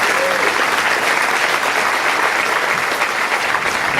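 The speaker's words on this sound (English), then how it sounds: "I just want to give him one more big round of applause" Audience at a school gala applauds, a loud, steady wash of clapping from a large crowd filling the room without a break.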